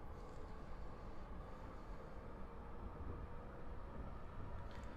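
A train runs on the line in the Train Drive ATS 3 simulator as a faint, steady rumble with a low roll, continuous and even throughout.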